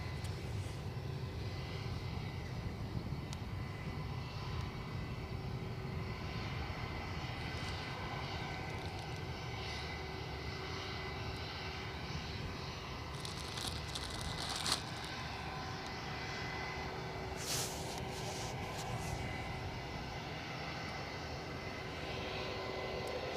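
Embraer E195-E2 airliner taxiing at Edinburgh Airport, a steady low jet engine hum and whine held at a distance throughout, with faint passing noises and no talk.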